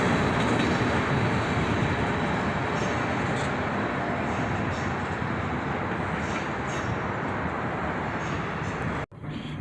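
A passing freight train with tank cars at its tail gives a loud, continuous broadband rumble and clatter of wheels on rails, close by and steady, cutting off sharply near the end.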